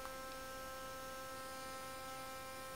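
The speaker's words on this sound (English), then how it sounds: "It is a electronic toothbrush." An Acteh Sonic Edge rechargeable electric toothbrush runs with a faint, steady electric hum, a constant buzz that holds level without pause.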